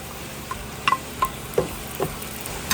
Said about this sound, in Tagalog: Sa mainit na kawali, maglagay lang tayo ng mantika. Maggisa tayo ng bawang.